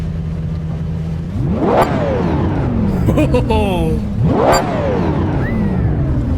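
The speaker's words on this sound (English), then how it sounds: "what is the best one to rev the engine first?" A Lexus LFA engine revs hard, climbing fast to a sharp peak near two seconds, dropping, then screaming up again around four and a half seconds before falling away, loud and close, with a short spoken exclamation mixed in.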